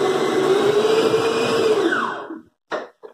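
An electric stand mixer whirs steadily up close while making ice cream, a loud continuous motor hum that winds down and stops, followed by two brief knocks.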